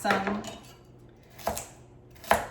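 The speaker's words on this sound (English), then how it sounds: "So we'll get these carrots all chopped up." A knife chops carrots on a cutting board, three quiet, spaced knocks with light clatter, fairly close and alone.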